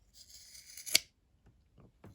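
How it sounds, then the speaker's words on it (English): Fabric scissors cutting through crocheted yarn ends, one sharp close snip after a brief rasp of blades, followed by a few faint soft handling sounds. "I do that with my fabric scissors so I can cut them in one go"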